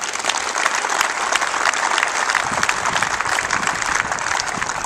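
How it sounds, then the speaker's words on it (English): Loud, sustained applause from a crowd at a St. Scholastica baseball 25th anniversary team announcement, greeting player number 13, pitcher Jake Eiler, steady and dense throughout with no break. "Big loud round of applause for number 13"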